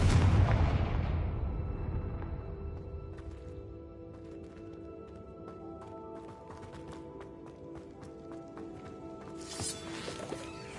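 A Confringo spell in Hogwarts Legacy bursts as a loud, near explosion with a booming crash, then fades into a rumbling tail, scattered crackling debris, and a brighter whoosh near the end.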